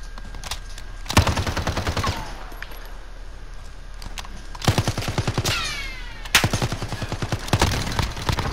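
Automatic gunfire from a weapon in Call of Duty: Modern Warfare comes in several loud, rapid bursts separated by single sharp shots, with metallic clinks and game effects in the pauses.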